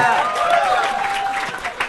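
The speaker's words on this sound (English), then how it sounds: "Listen to that crowd, Mike!" Comedy club audience at a live stand-up show cheering and applauding loudly, a dense continuous wash of clapping and shouts with voices calling out over it.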